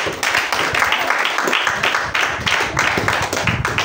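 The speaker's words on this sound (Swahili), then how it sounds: "Piga makofi kwa Bwana." A church congregation clapping for the Lord, dense rhythmic handclaps from many people filling the space, with voices mixed in beneath.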